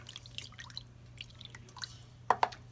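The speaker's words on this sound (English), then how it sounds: "You're gonna do a cup of coconut milk" A cup of coconut milk poured for a vegan pumpkin pie filling: faint, quiet liquid drips and small splashes, ending with two sharper drops close by.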